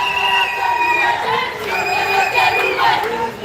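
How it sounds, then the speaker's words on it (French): A crowd in Yaoundé cheers and shouts for a gospel group's arrival, loud overlapping voices and whoops rising and falling, with some chatter mixed into the roar. "Des acclamations"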